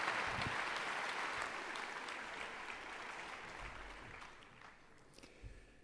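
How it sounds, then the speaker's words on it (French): Conference audience applauding a speaker at a 2009 climate lecture, a dense steady clatter of many hands that gradually thins and fades to a few last claps. "je vous propose également de l'applaudir"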